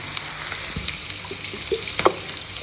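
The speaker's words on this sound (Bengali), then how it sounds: "সামান্য পরিমাণ জল দিয়ে" Water poured in a small amount into biryani-style pulao rice in a cooking pot, a soft close splashing trickle with faint sizzling underneath, no talk over it.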